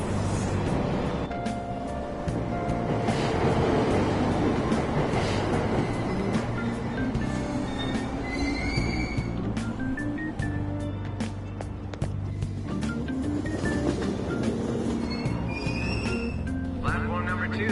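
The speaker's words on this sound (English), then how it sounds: "Train doors are now closing." Subway train pulling away from a station platform in the game Persona 5, a continuous loud rumble and rolling mechanical drone with brief higher tones, under station announcement voices.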